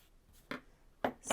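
Scissors cut off the ends of webbing for a key fob, heard as three quick, faint snips spaced apart, close by and otherwise quiet.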